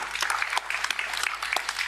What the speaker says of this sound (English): And let's have one round of applause for the entire group that we have up here.